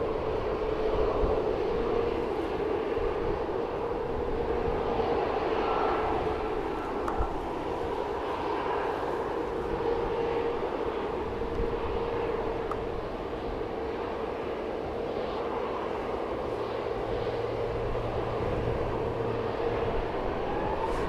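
A Malta Air jet operated by Ryanair departs Manchester Airport, heard as a steady, broad engine roar from some distance that holds evenly throughout, with no voices.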